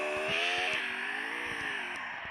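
A car engine drones steadily in the Free Fire video game, its revving pitch rising and shifting as the vehicle drives across the map, loud and continuous with no talk over it.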